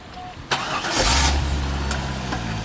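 Corvette engine cranking and catching after a short click, then settling into a close, steady idle rumble, with no talking.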